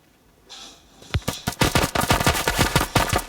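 Rapid automatic gunfire from the mobile shooter game Standoff 2 played on an iPhone, a dense run of loud, sharp shots starting after a short lead-in and continuing steadily to the end.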